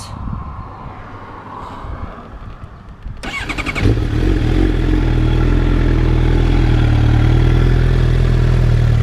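A warm Suzuki GSX-R750 sport motorcycle engine cranks and catches after a few seconds of quiet rustling, then settles into a loud, steady idle with a strong low rumble.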